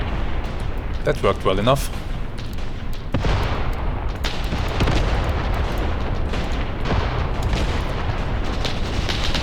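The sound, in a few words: mortar rounds firing a smoke screen in the video game Graviteam Tactics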